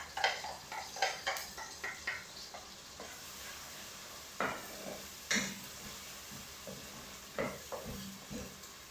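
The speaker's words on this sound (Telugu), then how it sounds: "ఆయిల్ హీట్ ఎక్కిందండి, మసాలా వేసుకుంటాను." Masala frying in hot oil for chilli paneer, with a soft sizzle under repeated scrapes and clinks of a spoon stirring in the pan, all close.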